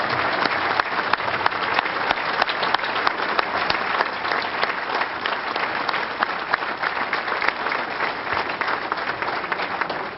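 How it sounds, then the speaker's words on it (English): Sustained audience applause for honorees at the Greater Syracuse Sports Hall of Fame class of 2007 induction dinner, a dense, even wash of many hands clapping throughout. "How about one more round of applause for all of our honorees"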